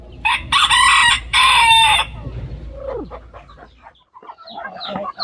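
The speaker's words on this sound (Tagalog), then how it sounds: "Dami ko na rin alaga mga manok." A rooster crows loudly twice in quick succession, followed by softer clucking and chicken chatter nearby.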